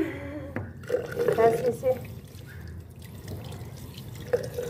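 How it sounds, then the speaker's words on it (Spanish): Tap water runs and drips as hands are washed at a sink, a light splashing flow under a speaking voice, with a few sharper drips toward the end. "A lavarnos las manos."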